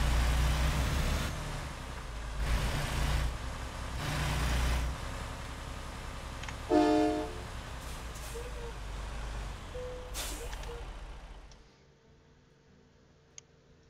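A truck in American Truck Simulator rumbles at low volume, with rhythmic ticking, a brief air-brake-like hiss and some clicks before the engine noise drops away near the end.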